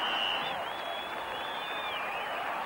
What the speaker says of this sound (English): the crowd acknowledging another 4 downs for the Broncos as they move inside the 25